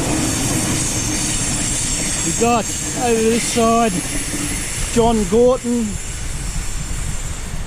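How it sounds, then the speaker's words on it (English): Train passing close by with a continuous heavy rumble and loud squealing wheels in several rising and falling bursts, while someone talks over the noise. "As the train goes by, bugger off train."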